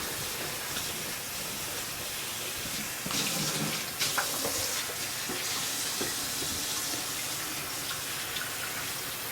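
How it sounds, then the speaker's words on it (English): Water runs steadily from a tap in a continuous hiss, with faint clinks and shifting splashes as black-eyed peas are rinsed underneath in lukewarm water. "I'm rinsing them just in some lukewarm water,"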